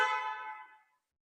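Horn of a luxury electric car, one short tonal honk sounding close and fairly loud before tailing off into silence, with no other sounds around it.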